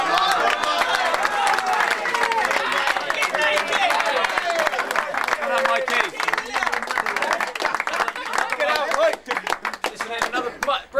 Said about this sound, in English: Round of applause for Mike.